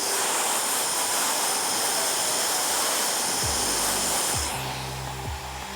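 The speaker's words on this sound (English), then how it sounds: "Point the air down, just run the brush and the dryer" Handheld hair dryer blowing steadily and loudly during a round brush blowout, a continuous broad roar that shifts and drops in pitch near the end as the airflow changes.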